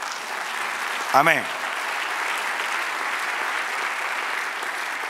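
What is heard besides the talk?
congregation applause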